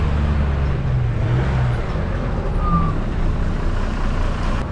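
Steady road traffic in the hill town of Shimla, lined with large hotels and resorts: a continuous low rumble of passing cars and heavier vehicles, with a brief higher tone partway through, fairly close and with no speech.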